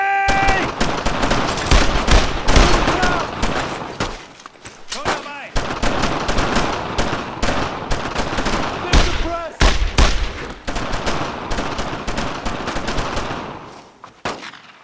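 Loud, close bursts of rifle and machine-gun fire from the World War II shooter Brothers in Arms: Road to Hill 30, crackling in rapid volleys with brief gaps over nearly fifteen seconds, with shouted voices mixed in.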